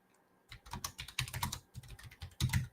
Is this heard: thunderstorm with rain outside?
no